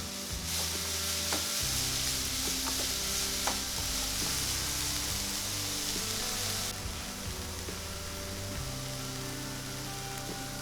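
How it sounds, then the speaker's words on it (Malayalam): Chopped carrot and capsicum sauté in a pan, giving a steady, hissing sizzle with occasional sharp clicks of a spoon against the pan, close and continuous for about ten seconds. "ഇനി അതെല്ലാം കൂടെ നല്ലതുപോലെ ഒന്ന് ഇളക്കി യോജിപ്പിക്കുക. 1-2 മിനിറ്റ് നല്ലതുപോലെ ഒന്ന് വഴറ്റിയെടുക്കണം."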